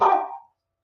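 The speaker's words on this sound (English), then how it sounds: "sorry, that's my dog." A pet dog barks once indoors, a single close, loud bark that fades out within half a second, followed by silence.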